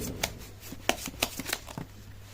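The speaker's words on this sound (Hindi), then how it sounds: "कर लेती हूँ कार्ड की शफलिंग।" Tarot cards are shuffled by hand in a few soft, separate riffling snaps spaced across a couple of seconds, close but quiet, with no voice over them.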